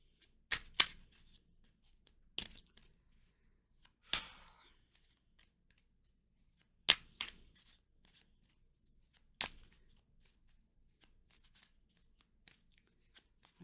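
Tarot cards clacking as a deck is shuffled, heard as a few sharp, close clicks and snaps spaced irregularly through near silence.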